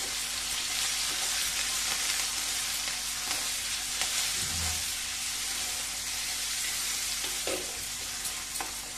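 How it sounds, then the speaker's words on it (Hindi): Chopped bell pepper and onion fry together in hot oil, making a dense, continuous sizzle that stays loud and even, with a couple of soft stirring bumps. "शिमला मिर्च और प्याज को साथ में ही डालेंगे"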